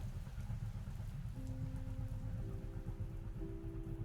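Steady rain falls outside a train, a dense even hiss of drops with a low rumbling undertone and a few faint sustained tones entering midway.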